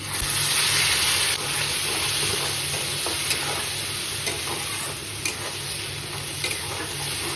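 Continuous loud hiss of potatoes frying in oil, a dense steady sizzle with a few faint clicks, no talking.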